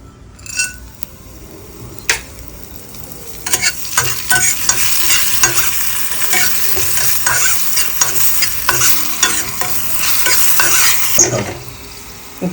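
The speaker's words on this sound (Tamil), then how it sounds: "ஒரு வானல் வச்சு நம்ம கொஞ்சம் எண்ணெய் ஊற்றி அந்த வத்தலை பொரித்து அதில் போட்டுடலாம்." Dried vathal frying in oil in a pan, a loud continuous sizzle with repeated scraping stirs and light utensil clinks, close up, with no one talking.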